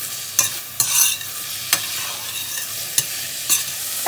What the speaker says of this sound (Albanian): Dhe të japim një skuqje të lehtë.